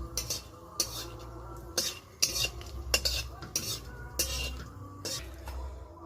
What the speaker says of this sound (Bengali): শুকনো লঙ্কাটা ভেজে আমি নামিয়ে নিলাম।